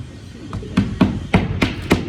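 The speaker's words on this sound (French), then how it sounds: "on vient clouer le long de la noue." Hammer blows drive nails through roofing shingles along a roof valley, about six sharp strikes at a steady, slightly uneven pace, close and fairly loud with no talking.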